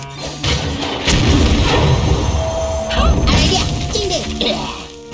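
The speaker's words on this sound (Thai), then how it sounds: "เอาปืนใหญ่ยิง" Cannon fire in the card game Hearthstone: heavy crashing booms and thuds rolling through a dense game soundtrack, with a couple of sharp impacts standing out over the busy, loud mix.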